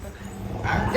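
A person imitates a dog's bark with a short, yappy vocal woof.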